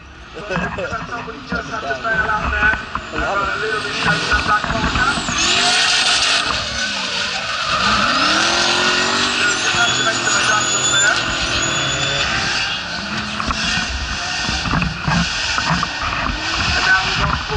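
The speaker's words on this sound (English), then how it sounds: "listening to the sound of these exhausts and screeching" Loud race car engines roar and rev for a sustained stretch, with high screeching tyres cutting through and a voice talking over the noise.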